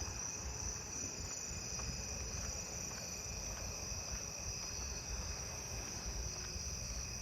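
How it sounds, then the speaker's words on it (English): Narrow-winged tree crickets call from a tree in a residential neighbourhood at night, a steady, unbroken trilling chorus at moderate distance that holds an even level throughout, with no voices. "A lot of narrow-winged in that tree."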